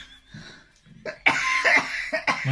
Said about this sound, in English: My able assistant is having a coughing fit.